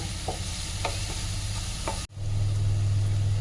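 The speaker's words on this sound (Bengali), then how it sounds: "পেঁয়াজটা আমাকে একটু বাদামি রং করে ভেজে নিতে হবে।" Onion sizzles and fries in a pan with green chillies for a traditional Bengali shol fish curry, a steady close crackling hiss with a few stirring scrapes, growing louder after a brief break.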